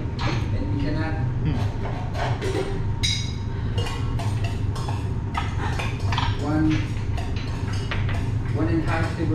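Utensils clink and scrape against a bowl while seasoned salad is tossed during a cooking class aboard a cruise ship. The clatter is repeated and uneven, with voices murmuring in the background.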